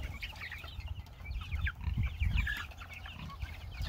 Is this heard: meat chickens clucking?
yes